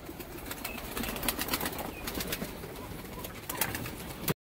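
Pigeons, including a male bird, coo and shuffle nearby with soft wing flutters, a steady low murmur of birds throughout with a few brief louder bursts near the end.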